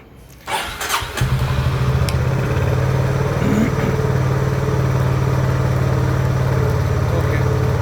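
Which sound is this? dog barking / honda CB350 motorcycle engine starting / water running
honda CB350 motorcycle engine starting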